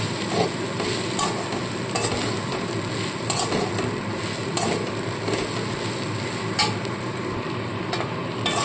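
A spoon stirs and scrapes stuffing with grated coconut in a pan over low heat for a vegetarian stuffed pointed gourd dish, giving soft continuous sizzling with repeated clinks against the pan and no talk.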